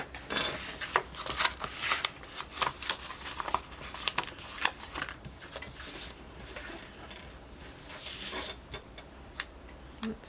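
Scissors snip through paper while a weekly planner is being set up, a quick irregular series of close, crisp cuts with short pauses and no talking.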